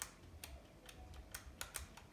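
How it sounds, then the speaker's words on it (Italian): The L2 trigger of a Sades Emio PS4 controller clicks, as though something inside is not seated correctly: a handful of quiet, sharp, close clicks at irregular intervals. "però questo click click che si sente, che invece R1 non fa"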